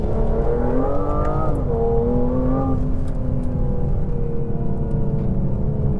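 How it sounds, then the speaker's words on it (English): Aston Martin V12 Vanquish engine revs loudly up close, its pitch climbing and falling in a couple of sweeps before settling into a steady deep drone. "You can hear the V12?"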